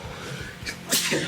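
A single sharp sneeze bursts out near the end, close and fairly loud, after a stretch of low background murmur.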